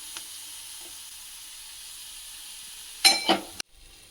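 Onions frying in ghee in a pan on a stove, a steady low sizzle running throughout, with a couple of louder bursts of crackle and stirring near the end before the sound cuts off.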